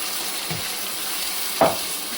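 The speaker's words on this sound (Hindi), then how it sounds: "5 मिनट के लिए हम चिकन को अच्छे से भून लेंगे।" Marinated chicken frying with softened onions in a pan, stirred over medium gas: a steady low sizzle with a couple of soft scraping strokes and one sharper clatter of the spoon.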